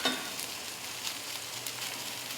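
Pork belly and fried rice sizzle steadily on a Ninja FlexFlame grill, a continuous close hiss with faint scraping and stirring taps throughout, no talking.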